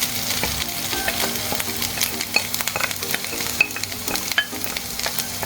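Alamang, small shrimp paste, frying and being stirred in a pan for tortang and ginisang alamang, with a steady broadband sizzle, close and fairly loud, broken by occasional sharp spatter pops and utensil scrapes, no voices.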